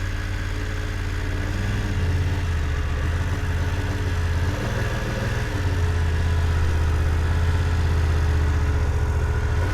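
A motorcycle engine idles steadily during a slow-speed U-turn practice drill, a low, even rumble with a brief dip partway through before it settles back to the same constant note.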